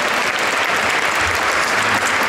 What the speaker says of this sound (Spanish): También el padre Alonso y el padre Marcelo, un aplauso para ellos.